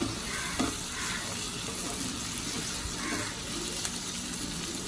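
Steady close sizzle of chopped tomatoes frying in a pan for egg prawn pulusu, with occasional stirring scrapes and a few soft knocks; no voices.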